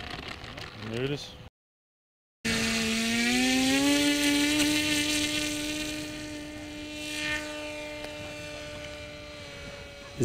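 EA.051 model aircraft engine cruising at half throttle, a steady buzzing drone with a slowly gliding pitch, near and fairly loud after a brief gap, with a voice talking at the start.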